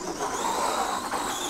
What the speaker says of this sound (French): On est sur un moteur brush, bon c'est un 550 quand même, mais c'est un moteur à charbon.